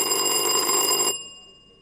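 A contestant's bell rings out in a school quiz competition, a bright sustained ring of about a second that stops abruptly and then fades, alone with no talk.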